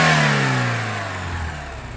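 The 2.2 turbo diesel engine of a 2026 Fiat Titano Ranch pickup revs up loudly and close by, its pitch falling as it settles back toward idle.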